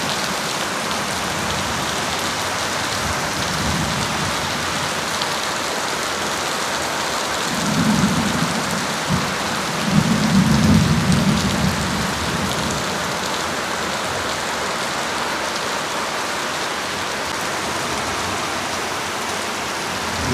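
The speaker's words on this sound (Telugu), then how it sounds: "ఇంతే పడుతూనే ఉంటుంది రెయిన్. ఆగస్టు వరకు పడుతూనే ఉంటుంది రెయిన్." Heavy monsoon rain pours down steadily as a dense, continuous wash, with low rumbles swelling briefly midway like distant thunder, and no voices present.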